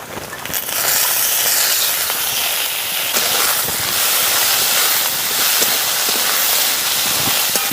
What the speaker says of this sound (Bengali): গাজর কুচি আর বিন কুচি নিয়েছি